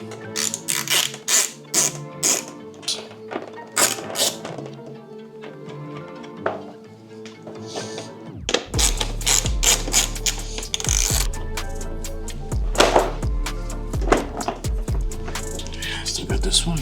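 Ratchet spinning off bolts from a 2018 Honda CBR600RR track bike fairing, rapid close clicking in bursts with clunks and taps, a voice talking over part of it.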